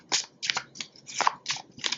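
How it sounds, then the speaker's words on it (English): A deck of tarot cards being shuffled, giving repeated crisp riffling bursts in an uneven rhythm, close and fairly quiet, with no talk. "let's shuffle this deck a little bit."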